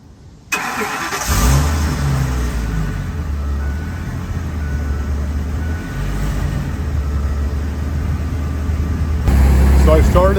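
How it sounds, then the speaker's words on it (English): An RV engine cranks and catches, then settles into a steady, close idle with a low rumble and a slight rise in revs near the end, with no talk over it. "So I started it up, it started right up and it's purring."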